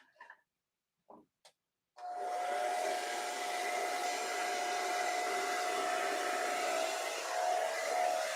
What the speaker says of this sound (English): That blow dryer works quickly.